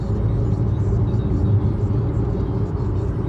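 A 2011 VW Golf driving with a suspected shake, its engine giving a steady, close, continuous rumble that holds even and smooth throughout, with no talk over it.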